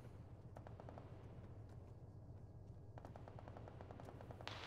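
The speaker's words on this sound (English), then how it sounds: "There's a minigun shooting at us." Minigun fire in a military shooter game, faint and distant, coming in rapid repeated bursts with a pause between them.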